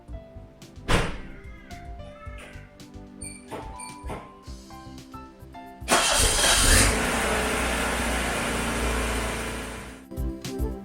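A starter motor cranks briefly, then a 1991 Toyota Corolla engine catches and roars loudly to life before settling into a steady idle, followed by a few clicks.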